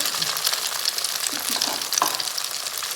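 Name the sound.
Frying Thai omelette with live shrimp in oil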